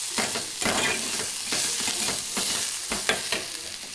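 Spices with a pinch of turmeric frying over a low flame in a pan for paneer curry, a steady sizzle with repeated stirring scrapes, close and continuous, no talking.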